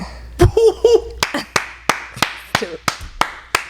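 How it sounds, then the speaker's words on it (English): Hands clap in a studio, a dozen or so sharp claps in an uneven rhythm, with laughter and brief vocal sounds mixed in early on, close and fairly loud. "Clap it up, man."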